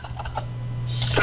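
Quick typing on a computer keyboard while entering data in Excel, a close run of soft key clicks over a low steady hum, growing slightly louder toward the end.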